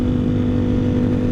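A Ducati Streetfighter V4 motorcycle engine, heat-soaked and running rough when hot, idles with a loud, steady, close-up droning hum and no talk.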